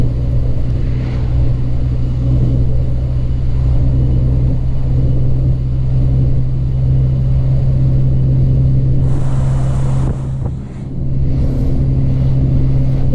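An old lorry engine drones steadily while driving, a loud, deep continuous rumble with a strong low hum that dips briefly near the end before resuming.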